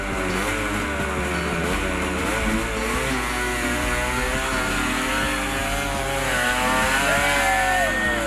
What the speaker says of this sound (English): Finally the bike started. Now, let's get to the top of this hill.